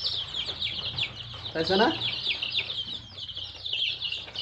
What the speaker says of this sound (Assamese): এইটো লোকেল মুৰ্গী পোৱালি নে সোণালী আপোনালোকে নিজেই চাই লওক